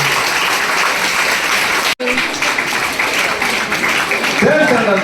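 Applause from an audience at a Tamil association gathering, a dense steady patter broken by a brief cut near the two-second mark, with murmuring voices mixed in underneath.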